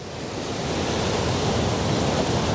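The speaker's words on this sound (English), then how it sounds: "Here are the waves now" Choppy sea at high tide, breaking waves rushing continuously onto the shoreline as a loud, broad roar with wind buffeting the microphone, no voices.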